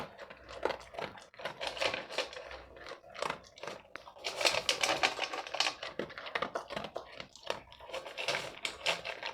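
A dog eats its food, making rapid, irregular, crisp crunches right up close that carry on steadily throughout.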